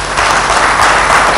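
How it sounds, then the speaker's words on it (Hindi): Audience clapping at a World Disability Day event, a dense, loud burst of applause filling the whole moment. "आज पर्सन विथ डिसेबिलिटीज की ईद है और उनके लिए तालियां होनी चाहिए"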